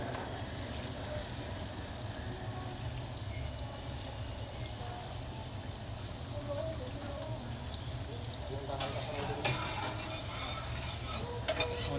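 Onion fries in a pan for Kerala-style poha, giving a steady close sizzle while a spoon stirs it, with scraping clicks growing sharper toward the end.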